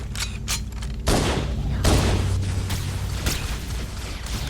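Sniper rifle shots in Halo: The Master Chief Collection co-op play, heavy booming reports with a few sharp cracks spaced over several seconds amid game noise.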